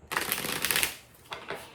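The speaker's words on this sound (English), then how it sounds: "So we'll shuffle 3 times and see what comes up." Tarot cards being shuffled by hand, a dense riffling burst for about a second, a brief pause, then a shorter second burst; close and fairly quiet, with no talking.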